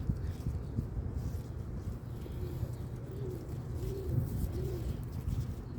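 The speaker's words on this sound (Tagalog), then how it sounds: "oh, may kalapati" Soft, repeated pigeon cooing rises a few times over a steady low outdoor rumble in a chili garden, fairly close and moderately quiet.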